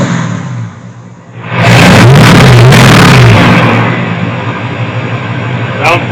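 A 1975 GMC Gentleman Jim C10 pickup, revived after sitting eighteen years, idles then revs hard with a loud rising roar before dropping back to a rough, steady idle, close by, with a voice briefly heard.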